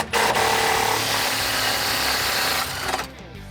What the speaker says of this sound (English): loosen up and remove this T50 Torx head bolt